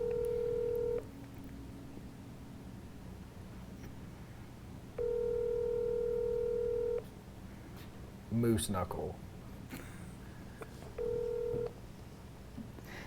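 Touch-tone DTMF beeps from a phone being dialed, a steady two-tone signal that sounds for about a second, then about two seconds, then a short burst, each clear and close. A brief clatter and a short spoken phrase fall between the tones.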